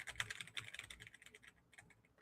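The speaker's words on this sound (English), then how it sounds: "That's how I want y'all to experience the typing" Rapid clacking of computer keyboard keys, a quick flurry of close, crisp taps that thins out and fades toward the end.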